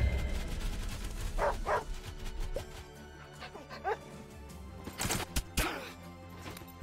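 A dog barks and yips in the game Wargroove, several short scattered barks and a whimper over quiet background music, with a few sharper crashing hits near the end.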